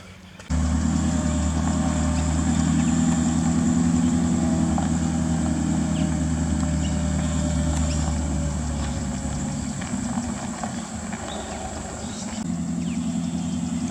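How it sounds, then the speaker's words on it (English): A 1986 Toyota Hilux drives along, its engine a loud, steady low drone with road noise heard from inside, easing slightly near the end. "Big Daz driving the big Luxy"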